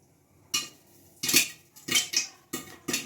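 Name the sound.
popcorn popping in a covered pot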